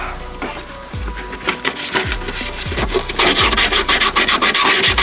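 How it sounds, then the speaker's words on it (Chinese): Coarse 100-grit sandpaper is rubbed back and forth inside a car door panel, giving rapid, rhythmic scratchy strokes close to the microphone that grow louder and faster toward the end. "你就用100号的砂纸把里面打磨一下。"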